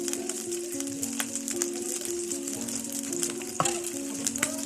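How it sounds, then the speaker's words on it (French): Chicken coated in soy flour frying in melted butter in a pan, a steady close crackling sizzle with scattered pops throughout, over faint low background tones. "Donc pendant que le poulet sera en train de frire, je vous laisse."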